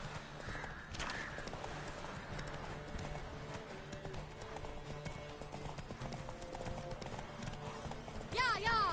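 Horse hooves from The Witcher 3 pound in a steady clip-clop rhythm throughout, with a brief whinny near the end, all under continuous talking.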